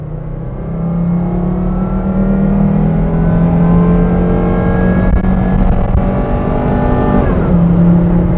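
Full-throttle run in a high-mileage P2 Volvo XC90 2.5T SUV on a straight road, heard from inside: a steady, loud engine drone with harmonics rising slowly over several seconds, then a brief dip like a gear change before pulling again.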